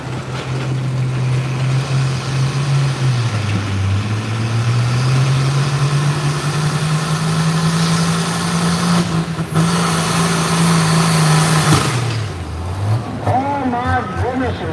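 A Ford 8600 pulling tractor from Stanley idles loudly and steadily at a Virginia pulling event while backing in, its low engine drone shifting pitch as it revs, with an announcer talking over it throughout.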